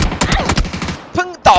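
Gunfire in a shooter video game rattles in quick bursts of rapid shots, followed by a couple of sharper game effect sounds near the end, with a voice partly under the action.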